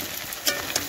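Rice flour and coriander leaf fritters frying in hot oil, a brief, close, crackling sizzle with a couple of sharper pops, heard alone without voices.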